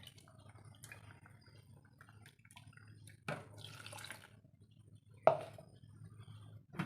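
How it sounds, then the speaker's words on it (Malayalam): Water is poured from a vessel into a simmering tomato and cucumber ozhichu curry, a short splashing pour partway through over faint kitchen background, with small drips around it and no talk. "കുറച്ച് വെള്ളം കൊണ്ട് ഒഴിച്ച് കൊടുക്കാം."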